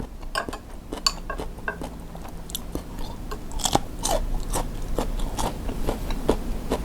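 Someone eats spicy Phatthalung-style blue crab chili paste with rice, giving a run of close, crisp bites and crunchy chewing with faint utensil clicks, and no talking.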